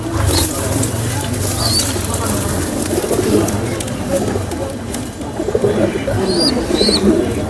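Pigeons at a busy pigeon market in Nazirpur bazaar, cooing and rustling in a steady crowd hubbub, with brief high chirps near the end and people talking throughout.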